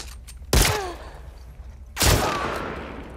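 Two loud, close gunshots in The Last of Us 2, each a sharp blast followed by a long reverberant tail, spaced about a second and a half apart.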